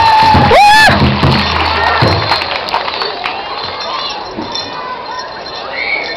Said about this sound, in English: Let's give this dancer a round of applause